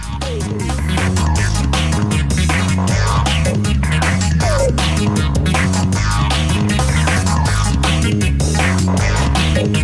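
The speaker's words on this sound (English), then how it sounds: "The machine folds the matchbook covers over 2 rows, or 20 matches, then inserts one strong staple through all 4 layers." A matchbook machine cutting, folding and stapling matchbook covers runs with a loud, steady mechanical throb and rapid repeating clatter, continuous and close throughout.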